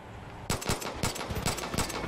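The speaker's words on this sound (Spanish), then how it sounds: "¿Escucho disparo? Sí, detrás de mí." Automatic gunfire in the video game Far Cry 5, several loud, close rapid bursts with short gaps between them, no talk over it.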